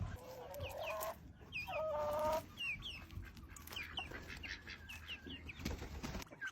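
Backyard homestead chickens cluck nearby as grain is tossed around the yard by the handful at morning feeding. Wings flap briefly and other birds chirp faintly in the background, with no talking.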